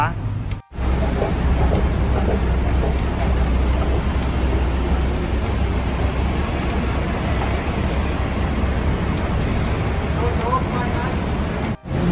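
Steady rumble of a Bangkok skytrain in motion, continuous and loud, with muffled voices faintly under the noise.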